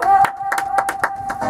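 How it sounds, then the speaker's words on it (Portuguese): A few people clapping in a radio studio to welcome a guest on a Rio show, several sharp close claps over a steady tone and background voices, brief and uneven. "E hoje eu quero aplausos pro nosso convidado, Grande GG!"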